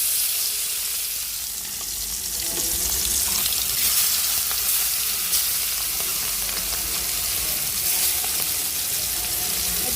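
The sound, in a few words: chicken pieces frying in a pan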